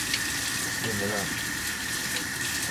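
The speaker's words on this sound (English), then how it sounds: "Rinse out real quick." Running water gushes steadily over a dug glass bottle being rinsed, a continuous close splashing flow, with a voice briefly heard underneath.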